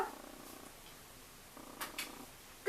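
A house cat purrs softly and close, a low, quiet rumble broken by a few brief louder rustles.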